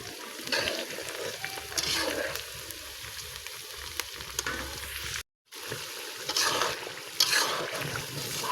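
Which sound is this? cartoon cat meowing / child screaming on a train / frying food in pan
frying food in pan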